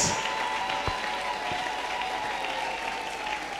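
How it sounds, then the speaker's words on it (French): A church congregation applauds during a Sunday worship service, a steady, continuous clatter of many hands that holds at an even level throughout, moderately loud, with no talking. "Acclamons très fort le Seigneur des Seigneurs"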